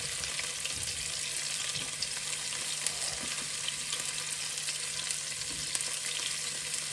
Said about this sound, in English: that's all the garlic and onions in the pan